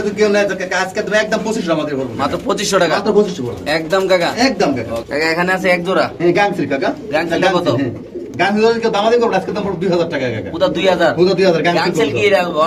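Large pigeons coo steadily and close by at a pigeon seller's, their soft throaty calls mixed with people talking throughout.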